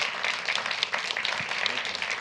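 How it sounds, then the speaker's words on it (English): An audience at a community conversation event applauds as two radio hosts from 96.5 WKLH are welcomed, a steady, moderately faint patter of clapping sustained throughout. "Applause is permitted."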